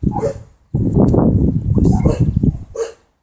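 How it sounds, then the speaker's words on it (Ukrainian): A dog barks loudly and close in a garden with strawberry plants, giving a short burst of barks, then a longer run of barks and growls, and a final bark, with no speech. "От думаєш, що хтось тут балакає, собака бреш."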